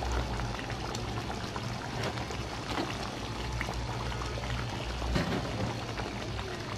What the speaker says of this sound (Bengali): পানি দিয়ে আমি এখন ঢেকে দিব